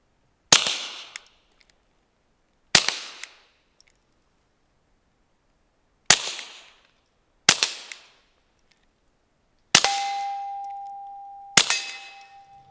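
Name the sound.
Taurus TX22 .22 pistol gunshots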